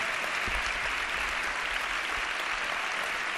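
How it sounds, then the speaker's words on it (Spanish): Congress audience applauding the event's organizer, a continuous dense roar of many hands clapping at steady loudness across the whole stretch. "Os pido un aplauso para él,"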